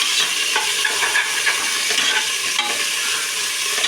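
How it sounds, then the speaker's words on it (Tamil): Green chilies being stirred into a vegetable biryani base in a pot, giving a steady close sizzle of frying with soft scraping of the stirring spoon throughout, no voices. "பச்சை மிளகாவும் போட்டாச்சு இப்போ இதை நல்லா நம்ம கிண்டிக்கலாம்"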